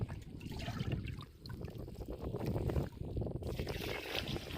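Water sloshing and pouring into a farm sprayer pump tank before pesticide is added for a wheat crop, a continuous splashing gush with uneven surges, close and alone.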